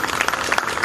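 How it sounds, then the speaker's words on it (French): Audience applause at a live stage event, a dense patter of clapping hands that stays steady through a short burst, with no voices over it. "Black, sous vos applaudissements."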